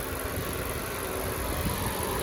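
A 2018 Honda Accord Touring's 2.0 liter 4-cylinder turbocharged engine running under an open hood, a steady, even idle hum with constant vibration and no change in revs.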